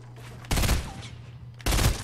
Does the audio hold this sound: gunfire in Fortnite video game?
yes